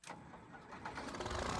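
A tractor engine in a farming video game cranks and catches, rising into a rough rumbling idle over a second and a half, with no talk.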